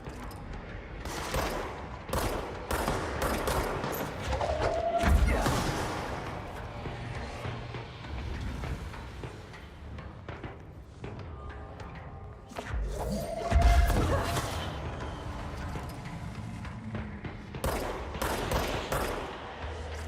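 Sniper and other gunfire in the video game Control erupts in sharp volleys of shots and heavy thuds, with the loudest bursts about eight seconds apart amid ongoing game noise.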